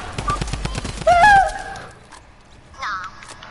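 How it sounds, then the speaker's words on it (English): A drum gun fires in an online shooter game, a fast rattling burst for about a second, followed by brief tonal chirps and other quieter game sounds. "Bro, the drum gun's too good."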